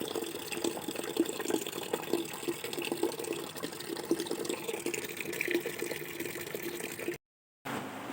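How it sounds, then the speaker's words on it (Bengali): Water runs steadily from a tap into a container, a continuous close splashing and gurgling stream with a short silent gap near the end. "দেখো জল এলো জল ধরছি এখন"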